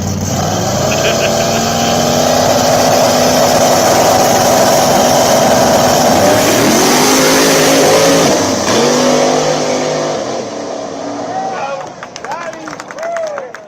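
A diesel drag racing car accelerates hard down the left lane, a loud sustained engine roar that swells and then fades, with chatter and crowd noise picking up toward the end.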